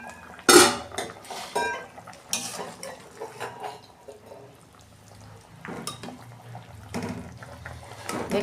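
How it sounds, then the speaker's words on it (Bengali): A cooking pot lid lifted off with a sharp metallic clank, followed by softer scattered kitchen clatter and light bubbling, fairly close and without speech. "দেখুন বন্ধুরা, ঢাকনা খুলছি।"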